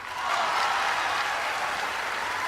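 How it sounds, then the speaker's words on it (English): An audience at the HBO Now streaming launch with Apple breaks into thick, steady applause that swells quickly and holds evenly throughout. "The audience applauds wildly."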